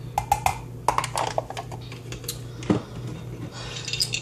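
Spoon scooping powder into a clear mug, a few light clinks and scrapes of metal on glass, close and quiet, with a brief louder clatter partway through.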